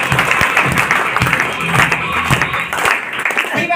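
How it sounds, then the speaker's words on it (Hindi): A lively crowd at a motivational business talk breaks into loud applause with cheering voices mixed in, sustained and dense throughout with a few sharper claps standing out. "एक बार जोरदार ताली होनी चाहिए।"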